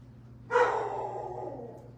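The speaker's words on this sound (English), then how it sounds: "lately he's been barking" A house dog gives a single sharp bark that rings out and trails off slowly in a quiet indoor room, with a low steady hum underneath.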